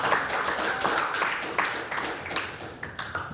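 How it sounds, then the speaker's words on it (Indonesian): Classmates in a school classroom clap in applause, a dense burst of many hands that starts loud and gradually thins and fades over a few seconds, with no talking over it. "Beri aplaus dulu untuk temannya yang sudah."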